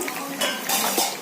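Potatoes fry in hot oil in a pan, a steady broad hiss with a few soft utensil clinks and stirring scrapes against the pan.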